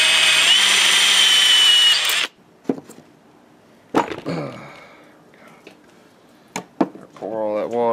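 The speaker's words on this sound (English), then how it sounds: "So this is the drill." A power drill boring into old bulldozer metal whines loudly and steadily for about two seconds, then stops, followed by scattered clanks and knocks while someone talks nearby.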